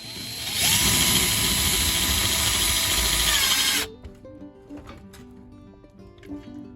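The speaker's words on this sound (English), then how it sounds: "And now I'm just adding more screws to make sure they're nice and secure." A power drill drives screws into wooden branches for a rustic cabin-style RV headboard, giving one long, loud, steady whirring burst that stops abruptly, followed by quieter clunks and handling noises.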